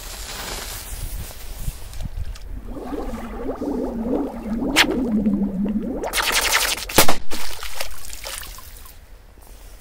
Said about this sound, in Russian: мне нравится, когда розочки взрываются